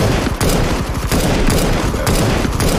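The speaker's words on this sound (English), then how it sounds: "That shooting feels good." Loud, dense gunfire from the Counter-Strike 2 video game, with rapid shots that overlap into one continuous, heavy barrage lasting the whole moment.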